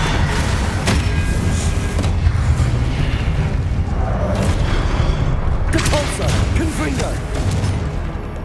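The Expelliarmus spell is cast in the Hogwarts Mystery video game. Loud, dense booming and crackling bursts sound continuously, with a voice heard among the effects.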